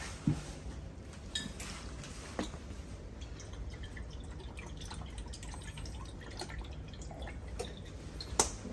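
Fish sauce poured from a bottle into a bowl while cooking roasted lemongrass coconut pork belly, heard as faint, close drips and a thin liquid trickle, with a few light clinks over a steady low background hum.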